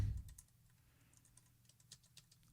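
A computer keyboard is typed on in quick, faint, irregular clicks following a brief low thump at the start, with no talking.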